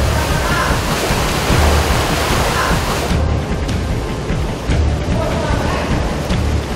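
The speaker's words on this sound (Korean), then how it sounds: "바닷물이 무섭게 밀려 들어오자 작업자들의 마음은 더욱 급해집니다." Seawater tide rushing into a sea cave in Indonesia during edible bird's nest harvesting, a loud continuous roaring wash of surging water with no clear speech.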